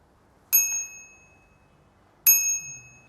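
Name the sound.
bicycle bell on an electric bike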